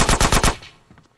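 Video game gunfire from GTA San Andreas Definitive Edition: four rapid, loud, close shots in a quick automatic burst, trailing off into a fading echo.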